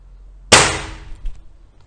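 One air gun shot fired through a chronograph while testing barrel chronographs, a single sharp, loud crack that decays quickly, followed by a faint clatter.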